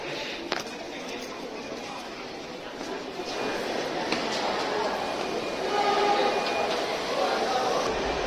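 A Delhi Metro train on the Pink Line, a continuous rumble of the carriage in motion that grows louder partway through, with a faint tonal whine and brief clanks over the steady roar.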